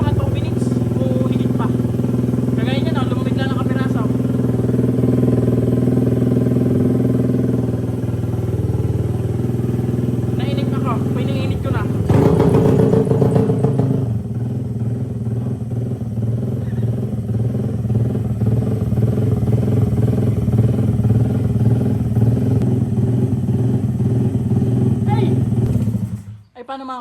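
A Honda Click scooter fitted with a Garnett injector warms up from cold, its engine idling steadily with a brief louder blip partway through, while someone talks over it.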